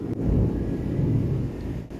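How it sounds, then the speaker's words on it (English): Thunder rolls in a video game built for couples, heard as a low, dull rumble that swells and fades for about two seconds with no voices over it. "It's thundering."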